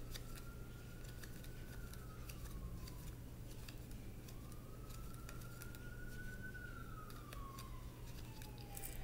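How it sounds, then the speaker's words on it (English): A distant ambulance siren near a hospital wails in slow rising and falling sweeps, faint over a constant low hum of background noise. "if you hear ambulances and stuff, I live right by the hospital"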